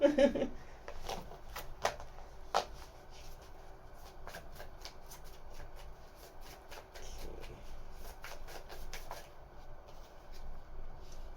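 Soft, uneven tarot card shuffling: clusters of light flicks and slaps come in bursts over a low, quiet background.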